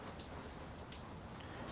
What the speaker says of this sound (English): the wind is blowing the rain into my back